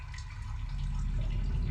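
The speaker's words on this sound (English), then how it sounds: "A stream of water is flowing through the cave wall into a rock pool." Soft steady trickle of a stream flowing through a cave wall into a rock pool in a video game, a continuous low watery rush, moderately quiet and constant.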